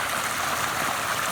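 Water pours steadily from an inlet pipe into a fish pond, a loud, continuous splashing rush with no break and no voices.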